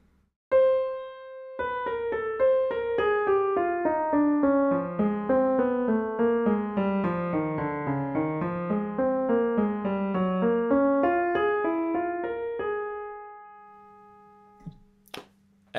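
A bebop lick played slowly on a melodic instrument, each note distinct and sustained in a winding line that climbs and falls, ending on a held note that decays, then a couple of soft clicks.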